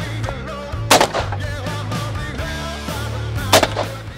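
Two loud, sharp shotgun blasts from a Benelli semi-automatic fired at clay targets on a shooting-ground stand, spaced a few seconds apart and heard close by with outdoor ambience between them.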